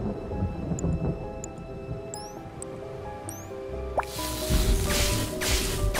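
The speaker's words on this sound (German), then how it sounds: "Oh nein, Gewitter. Bitte nicht." A thunderstorm in the puzzle game Azkend 2, with rumbling thunder and rain mixed among chiming game effects and music, swelling into a louder burst of rain-like hiss partway through.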